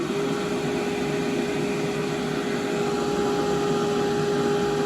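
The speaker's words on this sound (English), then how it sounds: "let's see how he does with the dryer" A hair dryer blows on a wet puppy during its first bath, a steady close whirring hum with a sustained tonal whine, continuous and even throughout.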